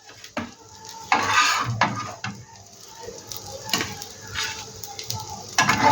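A cooked dish is scraped from a sizzling pan onto a plate, with repeated clinks and scrapes of a utensil against metal over a soft frying hiss, close and irregular.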